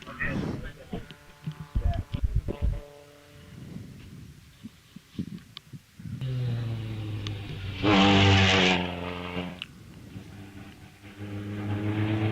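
A vintage Alvis 1250 sports car at a hillclimb, its engine rising in a sustained loud note that peaks as it passes, with a commentator's voice over the start of the run.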